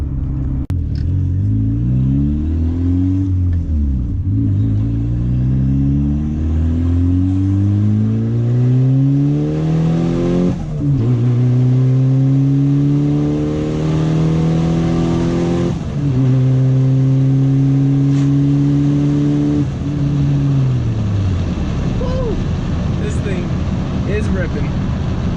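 A turbocharged car running about 10 PSI roars through repeated full-throttle pulls, engine pitch climbing steadily through each gear before dropping at the shifts, loud and close, with a voice talking toward the end.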